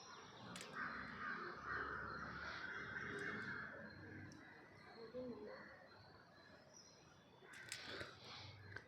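Crows caw outdoors during a Tamil Kanu Pidi observance, several scattered calls at a distance, heard faintly beneath a person talking.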